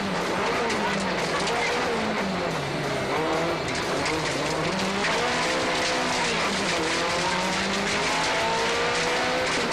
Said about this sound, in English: This is an old English Group 4 rally car. New Zealander John Kershaw was lighting it up in his 79 Vauxhall Chevette.